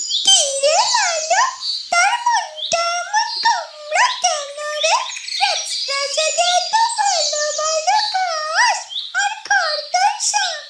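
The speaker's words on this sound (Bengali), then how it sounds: "হঠাৎ করে ডানা ঝাপটে সেখানে উড়ে এলো চারুলতার রাজপুত্র অরুণের প্রিয় বন্ধু সোনা পাখি" A cartoon bird chirps in quick, bright, warbling bursts, the calls tumbling over one another almost without pause, likely voiced by a performer.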